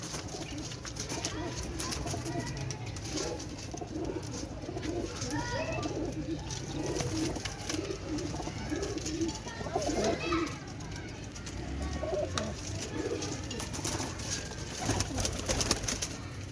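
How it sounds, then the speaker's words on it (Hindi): Domestic pigeons at a home loft coo steadily and softly throughout, with overlapping bird calls over a busy background of distant children and voices. "घर के कबूतरों का शौक कराया जा रहा है।"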